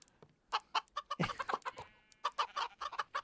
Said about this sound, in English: These chickens are loud, though.